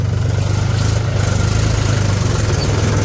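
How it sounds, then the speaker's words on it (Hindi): A tractor engine running steadily nearby in Navi Mumbai, loud with a low, throbbing idle rumble and constant vibration throughout. "ये देखो काका जी ट्रैक्टर चला रहे हैं अभी।"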